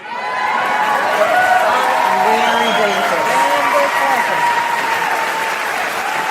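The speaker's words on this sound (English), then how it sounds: "They're clapping." A crowd of mostly elderly supporters claps loudly and continuously at a political speech, with cheering mixed in. Overlapping speech runs over the steady applause.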